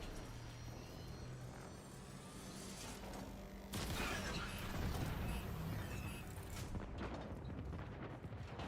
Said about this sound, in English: Cruise ship reactor has detonated.